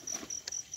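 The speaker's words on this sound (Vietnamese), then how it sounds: "Dế này là dế đá" Rock crickets at night give repeated high, steady chirps in short bursts, fairly close, with a faint rustle underneath.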